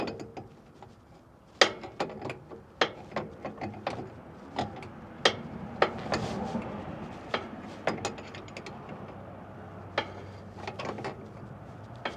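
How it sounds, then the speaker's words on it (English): Close clicks and ratcheting taps as a fitting is threaded and tightened on a hose of a Peterbilt cabover heavy wrecker, irregular sharp snaps over a low background hum. "So I'm going to put this fitting on"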